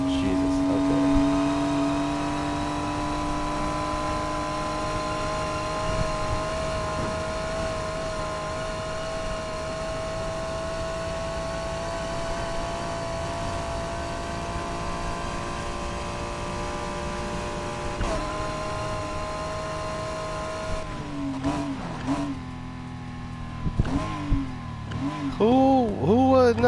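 A supercharged 5.6 engine car in the racing game Need for Speed Heat drones at steady revs with a supercharger whine, then blips and revs sharply in several quick bursts near the end, under faint background sound.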